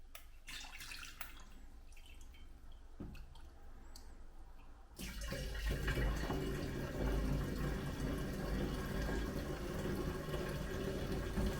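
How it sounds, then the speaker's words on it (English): Homemade berry wine, strained of pulp and sweetened with sugar, is poured into a bottle: a steady liquid gurgle begins quietly, then swells into a louder continuous fill partway through, close up with no talking. "Pour the liquid into a bottle."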